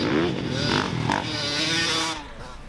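A dirt bike engine revs close by, a loud buzzing, rising and falling roar that drops off sharply near the end.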